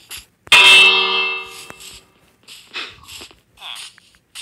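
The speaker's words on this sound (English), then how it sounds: "I just want to ring this bell." A bell is rung in Minecraft Bedrock Edition, giving a single bright metallic clang that rings out and fades over about a second, followed by faint voices talking.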